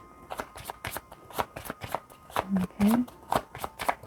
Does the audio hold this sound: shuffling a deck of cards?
yes